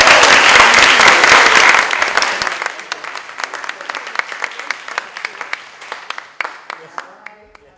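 Audience at a children's book conference talk breaks into applause, starting as a full, loud burst and tapering into scattered individual claps as it fades.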